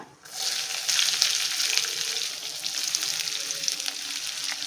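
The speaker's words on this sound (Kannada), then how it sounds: "ಈಗ ನಾನು ಒಂದು ದೊಡ್ಡ ಈರುಳ್ಳಿ ಈ ಥರ ತಗೊಂಡು ಈ ಥರ ಸ್ಲೈಸಾಗಿ ಕಟ್ ಮಾಡ್ಕೊಂಡಿದ್ದೀನಿ ಇದು ಹಾಕೊಳ್ತಾ ಇದ್ದೀನಿ" A large sliced onion hits hot oil in a pan for a breakfast shavige uppittu, and a loud sizzle rises at once and then holds as a steady near crackle, with no talking.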